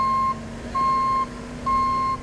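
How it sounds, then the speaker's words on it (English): Backup alarm on motorized equipment at a construction site, three steady electronic beeps repeating at an even pace over a low engine hum. "All motorized equipment should have a warning horn for forward movement, as well as an audible backup alarm."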